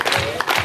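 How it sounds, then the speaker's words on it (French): A church congregation claps and cheers at a Pentecost evening service, a dense burst of crowd applause filling the room, loud and continuous. "Applaudissons. Applaudissons. Applaudissons."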